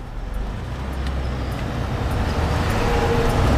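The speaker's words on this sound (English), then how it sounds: "What's neat in this tunnel area is you hear the engine." A 1963 Chevrolet Corvair engine droning steadily inside a tunnel, a low continuous rumble with hollow echo that swells slightly louder toward the end, alone without talk.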